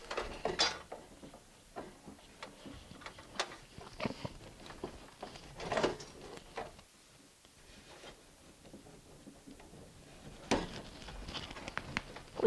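A 24-pin PC power connector pushed into a motherboard while building a gaming PC: close plastic clicks, scrapes and rattling handling sounds in irregular bursts, with no voices.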